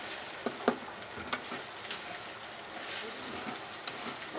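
Sabudana khichdi with potatoes, peanuts and green chillies is stir-fried in a pan, giving a steady low sizzle broken by a few sharp spatula taps against the pan.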